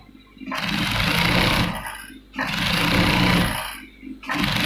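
A sewing machine stitches a men's kameez in two long, loud whirring runs, each starting and stopping abruptly with short pauses between, and a third run starting at the end.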